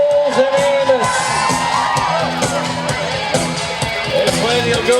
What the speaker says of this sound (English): Now you get to cheer her on as she heads home.